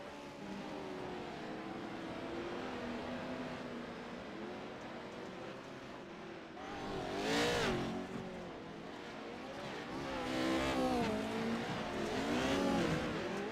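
Race cars in an iRacing oval race near the white flag, engines droning steadily with a louder pass around the middle and rising revs toward the end, continuous and close.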